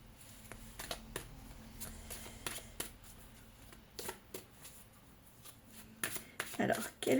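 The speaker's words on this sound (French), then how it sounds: "Je pense que je vais commencer à faire une coupe et après je vais tirer certainement des cartes en arc de cercle." A deck of playing cards is cut and then drawn out in an arc, giving scattered crisp flicks and riffling snaps that come in irregular bursts, with a brief louder shuffle near the end.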